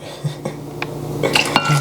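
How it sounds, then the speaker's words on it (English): Boiling hot water poured into a Pyrex glass dish, heard as a handful of sharp glassy clinks and knocks followed by a steadier rising splash toward the end, close and fairly loud with no talking. "Boiling hot water in the Pyrex."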